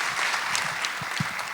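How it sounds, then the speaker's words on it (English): Short burst of audience clapping at an education summit, honoring the school district sponsor, a brief, even patter of many hands at moderate level. "Can we give a round of applause for Modesto City Schools?"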